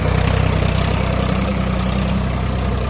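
A Swaraj 855 4WD tractor ploughing a field, its engine chugging in a close, loud, steady rhythm with a deep pulsing throb.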